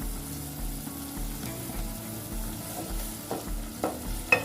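Whole spices (bay leaves, cinnamon, cloves, black peppercorns) frying with onion paste for a pigeon curry, a steady low sizzle with soft stirring scrapes and a few sharper clinks near the end, no voices.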